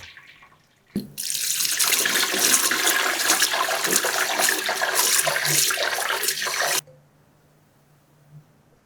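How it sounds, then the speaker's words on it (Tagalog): Water from a tap pours loudly and steadily for about six seconds as cooked food is drained and rinsed in a kitchen sink, then cuts off to quiet. "I-drain muna natin at banlawan para hindi ma-overcook."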